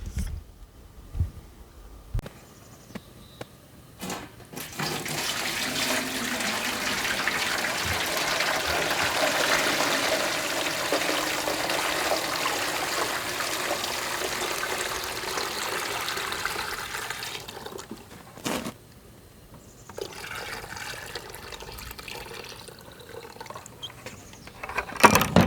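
Water pours steadily into a bucket for a deer-skull European-mount project, a sustained gushing fill that builds and holds for about fifteen seconds between quieter handling knocks and trickles, close to the microphone with no speech.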